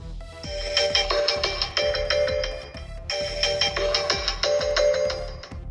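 A Samsung Galaxy A03 Core phone plays its ringtone, a bright electronic melody over a regular low beat. The loop repeats twice, loud and clear, with no talking.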